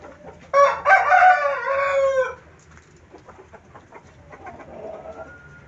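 Chickens in a backyard flock being dosed with a herbal tonic, a rooster crowing loudly up close, then softer clucks and bird calls trailing off afterward.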